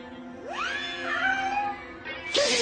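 A tabby cat gives one long, drawn-out meow that rises in pitch and then holds, heard fairly close and moderately loud, ending in a short burst of noise.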